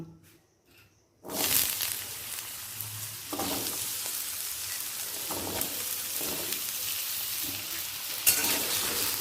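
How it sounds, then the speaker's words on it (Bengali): After a quiet start, cut potatoes hit hot mustard oil in a kadai and burst into a loud, steady sizzle, with occasional soft stirring knocks throughout. "তেলটা গরমও হয়ে গেছে এরপর দিয়ে দেব কেটে রাখা আলু"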